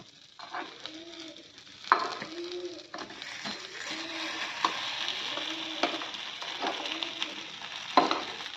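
Masala uttapam frying in oil on a pan: a steady, moderately loud sizzle with a few sharp clicks and taps from the spatula as the pieces are flipped, continuing evenly throughout.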